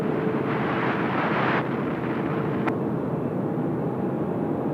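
A Qantas airliner rolling for takeoff on runway 34 left at Sydney Airport, a distant broadband jet roar holding steady over the whole stretch, with a brief sharp click partway through.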